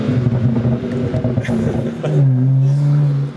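A tuned 460 whp BMW 335i with the twin-turbo N54 engine and MHD burble tune rumbles nearby, a loud, deep exhaust drone that dips and then settles into a steady low idle-like tone.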